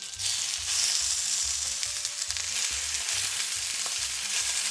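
A steak sears in a little avocado oil in a very hot pan, giving a loud, continuous close-up sizzle that stays even throughout, with a low rhythmic backing underneath.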